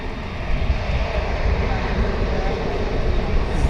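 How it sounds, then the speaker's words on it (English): An American Airlines Airbus A321 lands at DFW International Airport, its jet engines producing a loud, steady roar that stays close and sustained throughout. "And you're about to see American Airlines Flight 1544 coming in from Sacramento, California. An A321."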